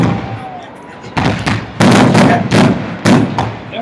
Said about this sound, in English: Definitely some fireworks going off here in Wyoming as we get set to play in the second half.